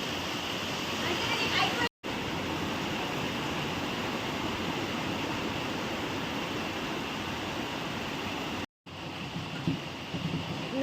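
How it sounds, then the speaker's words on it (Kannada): Heavy rain pours in a dense, unbroken hiss at a family home, loud and constant, cut by two brief dropouts, with a voice faintly audible. "ನೋಡಿ ಫುಲ್ಲು ಜೋರಿದೆ ಮಳೆ ಇಲ್ಲಿ"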